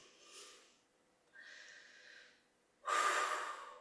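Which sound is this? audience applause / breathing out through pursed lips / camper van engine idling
breathing out through pursed lips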